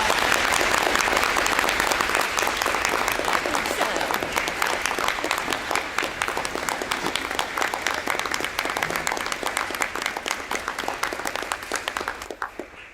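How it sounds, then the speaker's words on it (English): An audience at a school board meeting in Martinsville gives Centerton school staff a round of applause: dense, sustained clapping that stays steady and loud throughout, thinning slightly toward the end. "please give them a round of applause"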